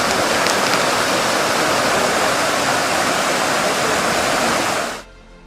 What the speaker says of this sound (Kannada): ಹಿರಣ್ಯಕೇಶಿ ನದಿ ತುಂಬಿ ಹರಿಯಲು ಆರಂಭಿಸಿದೆ